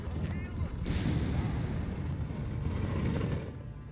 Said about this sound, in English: some artillery fire against it from Stephenn in put up here